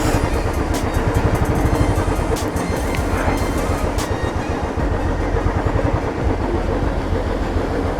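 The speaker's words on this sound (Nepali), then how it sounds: "ट्र्याक्टर आइरहेको रहेछ एकछिन पर्खिने हो क्या यहाँ" A tractor approaching along a hillside road near a dam in Lamjung, its engine chugging loudly and steadily in a rapid rhythmic throb that dominates the scene.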